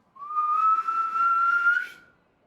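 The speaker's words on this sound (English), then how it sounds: "Let me do the magic whistle." A single sustained whistle, steady and clear, slowly rising in pitch for about two seconds, then fading out.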